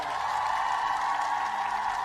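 Steady crowd cheering and applause with a continuous broad roar, fairly loud, holding evenly for the whole stretch with no voices standing out.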